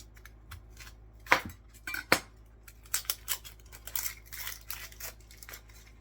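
Vegetables for chili are cut up in a kitchen, with sharp irregular knife chops and clinks against a board or bowl, close and fairly quiet with gaps between strokes.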